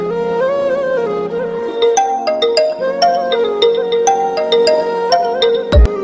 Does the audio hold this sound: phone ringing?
yes